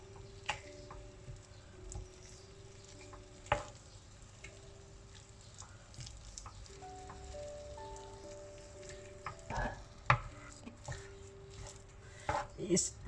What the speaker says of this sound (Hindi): अब इन्हें हल्का सा मिक्स करूँगी और साथ ही इसके मैश भी कर दूँ